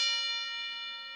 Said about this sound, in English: I forgot to cue the bell